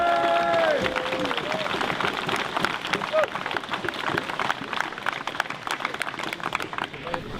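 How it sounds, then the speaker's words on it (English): Crowd applause at a modern Viking reenactment battle event, a dense wash of many hands clapping that holds steady and gradually thins, with a voice briefly speaking near the start. "Well, then I think you should give yourself a big applause."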